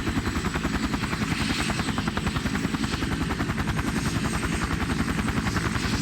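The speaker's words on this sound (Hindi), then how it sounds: "बाबा ने हेलीकॉप्टर स्टार्ट किया" A helicopter engine runs steadily throughout, with a loud, rapid rotor chop beating evenly over a deep mechanical drone.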